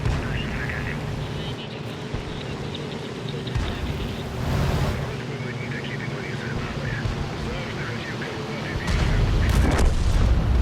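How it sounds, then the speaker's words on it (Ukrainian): Booming artillery and gunfire from a World War II Operation Overlord video game continue in the background, with heavier thuds toward the end and an engine drone beneath. "Там наші братіші пострілюють, туп-туп."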